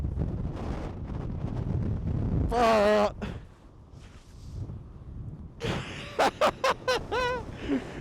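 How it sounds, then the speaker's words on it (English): A strong, cold gale buffets a microphone outdoors, making a loud, continuous low rumble with gusty surges throughout, broken by brief bursts of a voice. "It is blowing a gale right now. There is no way my microphone's okay."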